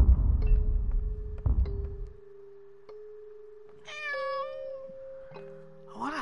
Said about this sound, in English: I want to help the cat.